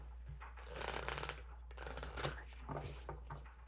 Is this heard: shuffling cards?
yes